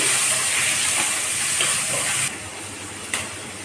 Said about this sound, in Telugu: ఉల్లిపాయలు కరివేపాకు కూడా వేసేస్తున్నాం. వేసి కలపాలి.